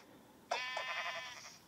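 One bleat from a Minecraft sheep, a short nasal wavering cry that starts abruptly and stands alone over quiet game background.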